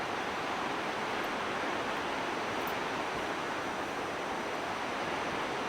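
A river near a waterfall on a quiet hiking trail near San Martín de los Andes in Argentina, a steady, dense rushing roar of water, loud and close, unbroken throughout with no voices.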